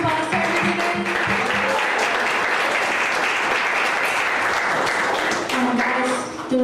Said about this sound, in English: Let's give a round of applause to our visitors.